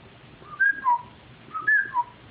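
A wooden duck whistle imitating a wigeon, played twice, each a quick three-note pattern of low, high, low, clear and fairly close over a faint hiss.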